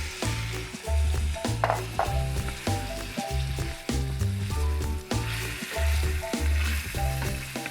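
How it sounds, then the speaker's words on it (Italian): Chopped garlic mixture with octopus sizzles steadily in a pan, a loud continuous frying crackle layered under rhythmic background music with a thumping beat. "Unisco il trito precedentemente preparato e lo lasciamo soffriggere per qualche minuto."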